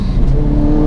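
Ford Focus RS Mk1 hot hatch engine revving hard through a second gear pull around 3,000 rpm, a loud, steady, close-up drone that holds throughout.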